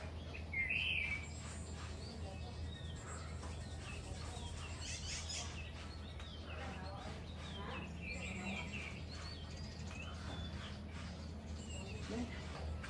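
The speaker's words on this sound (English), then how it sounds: "I hear the birds chirping" Birds chirp in the morning outdoors, with small scattered calls faint and intermittent over a steady low background hum throughout.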